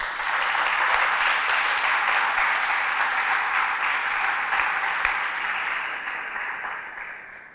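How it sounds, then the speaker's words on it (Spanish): A classroom audience claps for two guests, a loud, dense burst of steady applause that slowly tapers off toward the end. "ustedes le dan un aplauso a las dos invitadas"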